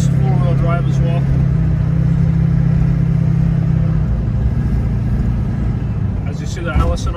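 A 2005 Chevy Silverado with a 6.6 Duramax diesel and Allison automatic drives in two-wheel drive, heard from the cab as a constant low engine drone and rumble, with someone talking over it.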